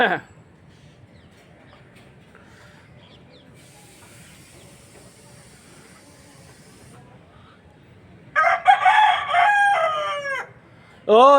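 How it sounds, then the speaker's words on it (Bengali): A rooster crows loudly in a rural village setting with green fields, one long call near the end followed by the start of another, after a long stretch of quiet background hum. "এর মধ্যেই মুরগি চেঁচাচ্ছে মোরগ ওই যে"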